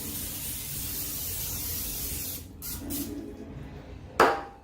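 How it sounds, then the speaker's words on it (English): A hiss of cooking spray runs continuously into a pan for a couple of seconds, then short bursts follow, ending with a sharp clatter. "Spray them all the way around"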